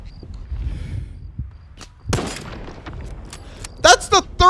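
A .308 rifle fires in a first-person shooter video game: one sharp crack near the middle, then a quick cluster of loud shots at the end over low background rumble.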